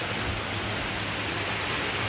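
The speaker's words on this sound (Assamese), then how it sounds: "এতিয়া বাহিৰত বৰষুণ আৰু বৰষুণৰ আনন্দ লৈ আছোঁ ঘৰতে থাকি" Steady rain falls outside a house, a dense, even hiss of drops that holds unchanged from start to end with no voices over it.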